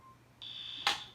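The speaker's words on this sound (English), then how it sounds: "oh the fire alarms! It worked!" A fire alarm goes off after being pulled, with a steady piercing electronic tone that starts abruptly and holds, briefly swelling with a louder burst near the end.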